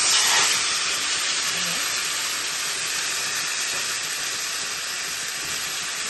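Pork chops hitting a very hot pan give a loud, steady, broadband sizzle. It surges at the start, then holds as a constant close hiss, with no talk over it.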